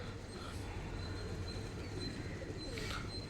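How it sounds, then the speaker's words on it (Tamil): Pigeons coo softly near a mosque, fed rice in the morning, with faint low murmurs under a steady low rumble of background hum and distant traffic, plus a brief brighter chirp near the end. "இவ்வளோ புறாக்கள் வந்து நம்ம பார்க்க முடியுது"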